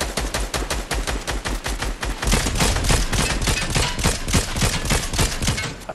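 Rapid bursts of automatic gunfire in a trios match of a shooter video game, loud and continuous throughout, with the heaviest firing in the second half and no voices over it.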